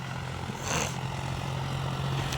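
A John Deere 5050D 4WD tractor works a potato field, its engine droning steadily and bogging down under load, with a low constant hum and a brief swell in the middle, close and continuous with no talk.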